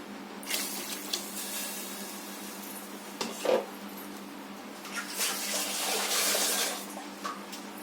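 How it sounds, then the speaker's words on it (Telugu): Tamarind juice pours into a pot of fish curry as a continuous watery splashing and trickle, rising and falling over several seconds with a brief clatter in the middle. "కలుపుకున్నాక మనం ముందుగా తీసుకున్న చింతపండు పులుసులు పోసుకుందాము."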